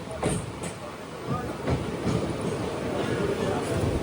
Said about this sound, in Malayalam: ട്രെയിൻ ഇപ്പോൾ പട്ടാമ്പി റെയിൽവേ സ്റ്റേഷനിലേക്ക് എത്തുകയാണ്